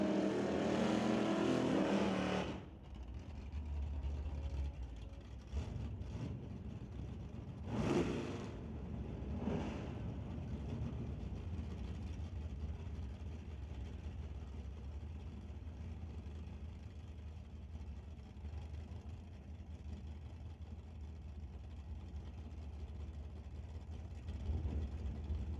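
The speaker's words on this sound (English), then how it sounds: "Chevy Malibu Wagon." A Chevy Malibu Wagon drag car roars loudly off the line at a drag racing event, then a steady engine drone holds with a couple of brief revving surges as the car runs down the strip.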